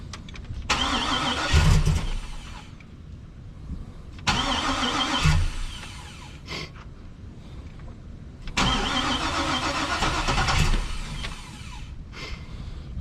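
An LS3 V8 swapped into a Chevrolet TrailBlazer SS cranks and fires up, running rough with an untuned setup in three loud bursts of revving and idling, close by.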